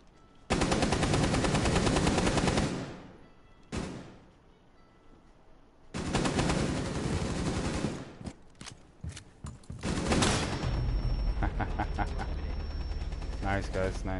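Rapid automatic gunfire in a first-person shooter game, fired through a wall in long sustained bursts separated by short pauses, with players talking over the shooting.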